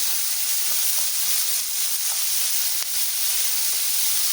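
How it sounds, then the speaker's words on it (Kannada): Vegetables for pasta sauté in hot oil in a pan, giving a loud, steady, unbroken sizzle. The hiss is close and continuous, with no talking over it. "ಚೆನ್ನಾಗಿ ಎಣ್ಣೆಯಲ್ಲಿ ಬಾಡಿಸ್ಕೋಬೇಕು."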